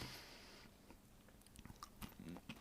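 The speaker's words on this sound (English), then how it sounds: "you can listen to the ASMR of me chewing away on things" Close, crunchy ASMR-style chewing and biting of food, with irregular bites and moist mouth sounds that are quiet and intimate, and no talking.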